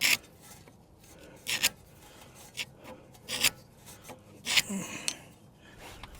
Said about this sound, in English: I like to scrape a line right here on this knuckle